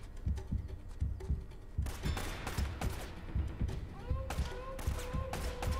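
Gunfire, including shotgun blasts, in the PS4 video game Uncharted: Drake's Fortune: a rapid run of sharp, booming reports and thuds close up, with an agitated voice talking over the shooting.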